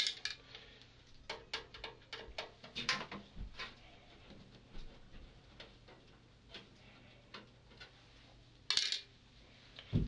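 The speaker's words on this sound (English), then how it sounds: "I'm removing the screws from the CD-ROM drives." Faint metallic ticks and clinks as screws are removed from PC CD-ROM drives, small irregular taps and rattles of screws and a screwdriver on a quiet workbench, with one brief louder scrape near the end.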